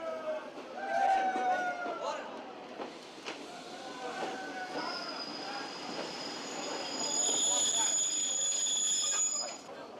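A small steam locomotive shunting narrow-gauge wagons in a station yard on the Tua line, with metallic wheel squeals and clanks and a high steady whistle-like tone near the end, while a narrator speaks over it.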